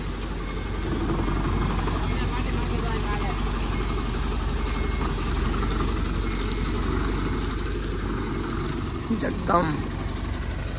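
A band vehicle's engine runs with a steady low rumble as it is driven out of a farm field, holding an even drone throughout, with a brief spoken word and a short sharp sound near the end.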